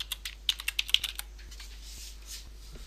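Quick bursts of keystrokes on a computer keyboard while entering text in a graphics program, a rapid run of close clicks that thins into sparse, fainter taps.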